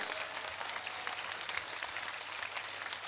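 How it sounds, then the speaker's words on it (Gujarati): A crowd at a community caste gathering applauds steadily, a sustained dense wash of clapping heard from some distance at a moderate, even level. "ના કહું ત્યાં સુધી તાળીઓ પડો એટલે અમને ખબર પડે ચાલુ રાખો"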